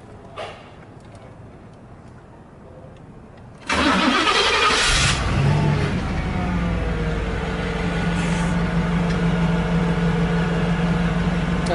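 Engine of the Knight Rider car turning over after a few quiet seconds, then roaring into a loud steady run and climbing in revs, a deep continuous drone that holds to the end.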